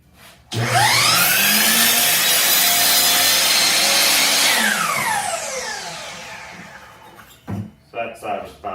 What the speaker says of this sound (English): set my microsaw to that line, and angle it